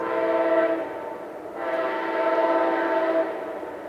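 Two long blasts of a loud train horn, the first briefly dipping before the second swells and holds, no speech.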